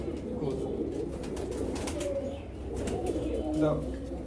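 Racing pigeons coo steadily at a loft, a low continuous murmur running throughout with someone talking over it.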